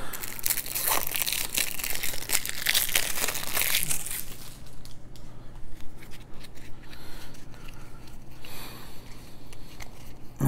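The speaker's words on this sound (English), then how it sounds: "let's go ahead and break open" Plastic wrap being torn and crinkled off a new card game deck, a continuous loud crackling that is busiest at first and then softer and patchier, with no talking.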